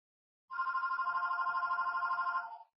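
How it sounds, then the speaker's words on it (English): A telephone rings continuously for about two seconds in a trading-chat setting, a steady, warbling electronic ring that is clear and close, heard alone without any talk over it. "I think my phone's ringing."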